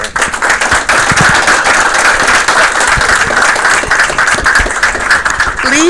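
Loud, close round of applause from a group at a veterans' club meeting and benefits presentation, a thick continuous clatter of many hands sustained for the whole stretch.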